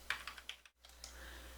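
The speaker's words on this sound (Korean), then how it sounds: "탭 키나 오른쪽 키보드 방향키를 눌러서 셀을 이동해 다니면 됩니다" A few quiet keystrokes on a computer keyboard, Tab and arrow keys tapped in a short irregular run, close and soft, with no voices.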